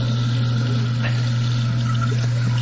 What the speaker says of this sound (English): The guy next to him keeps flushing.